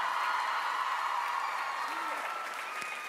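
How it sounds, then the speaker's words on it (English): Studio audience applause on a charity telethon game show, a dense steady wash of clapping filling the whole stretch and easing slightly toward the end, with no voices on top. "Give them a round of applause."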